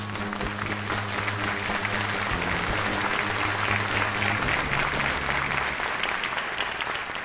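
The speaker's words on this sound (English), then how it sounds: "You do love the applause, don't you?" Steady, full applause from a crowd rolls on for several seconds at a talk radio show opening, with a low sustained musical tone running underneath that shifts pitch partway through.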